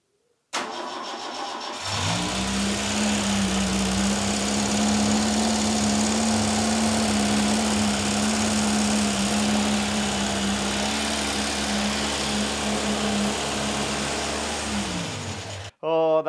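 A Vauxhall Chevette engine, abandoned for over ten years, cranks and starts in a workshop, then idles steadily and loudly with a buzzing mid-pitched tone for about fourteen seconds before cutting off.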